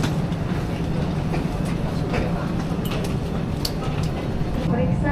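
An airport Skytrain people mover at Soekarno-Hatta airport runs on its rails, giving a steady loud rumble with faint clicks and squeals throughout. Announcements and voices play over the ride.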